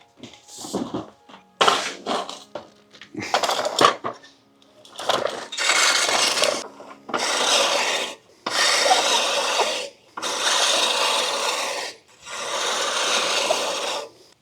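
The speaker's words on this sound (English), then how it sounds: "But I'm gonna try the manual reel first, just because it has a very clean cut" A manual reel mower is pushed through thick grass in repeated passes, each giving a close, raspy whirring of the blades that stops and starts again, with brief clatters between strokes.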